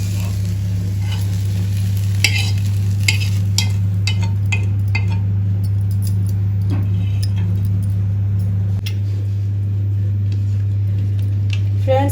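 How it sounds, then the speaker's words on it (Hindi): Fried okra (bhindi) being stirred in a pan, with a steady soft sizzle over a constant low hum and scattered light scraping clicks from the spoon throughout. "देखिए हमारा भिंडी का कच्चापन सब निकल गया, अच्छे से फ्राई हो गया है।"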